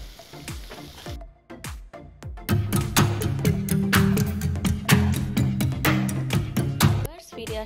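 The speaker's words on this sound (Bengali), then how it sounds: "শুকনো একটা প্যানের মধ্যে আমরা চিকেনটাকে একটু 5 মিনিট কুক করে নেব" Chicken cooks in a dry pan with loud, crackling sizzles and stirring clatter, beginning with scattered knocks and rising to a dense, continuous fry for most of the stretch before cutting off.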